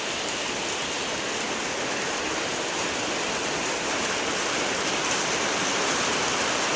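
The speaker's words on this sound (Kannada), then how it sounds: "ನಾವು ಬಂದ ದಿನ ಮಳೆ ಬರ್ತಿದೆ" Rain pours down in Mangalore, a thick unbroken wash of patter on surfaces that holds steady and fairly loud throughout, with no one speaking.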